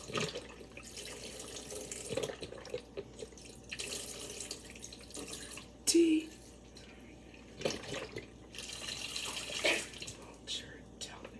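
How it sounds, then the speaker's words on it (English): Broth is poured into a roasting pan beside a Thanksgiving turkey, a soft, close trickling and splashing liquid sound that comes in uneven bursts, with quiet voices murmuring underneath. "I'm going to pour broth into the pan."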